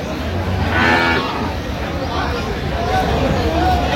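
Dairy cows and calves of improved breeds at Aftabganj cattle market in Dinajpur moo in long, low calls, one drawn-out and another later, over steady crowd chatter and a nearby voice.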